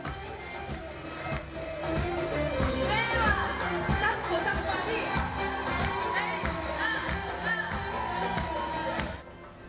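A large concert crowd at the Carthage amphitheatre, mostly women, cheers and sings along over music in a dense, continuous roar, with a voice talking over it.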